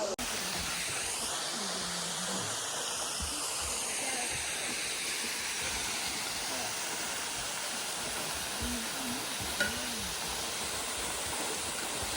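Steady broadband rush of falling water from a waterfall in Australia, constant and fairly close throughout, with faint voices and brief tonal sounds mixed in beneath the roar.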